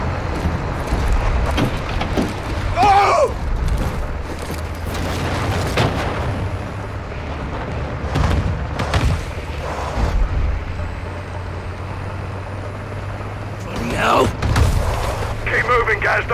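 Call of Duty MW2 combat around an APC: booming explosions and heavy gunfire burst at intervals over a constant low vehicle engine rumble, with voices shouting between blasts.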